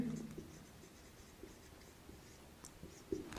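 Marker or chalk writing on a board during an anatomy lecture, faint scratchy strokes and light taps in a quiet room, with a few soft clicks.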